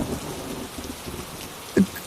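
Heavy rain pouring down in a steady, dense hiss, with a single short knock near the end and no voices.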